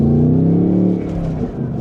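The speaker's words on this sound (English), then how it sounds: "just smooth power delivery from that V8" A 2026 Ford Mustang GT coupe's V8 engine pulls smoothly under acceleration, its low rising drone close and steady for a moment before easing slightly.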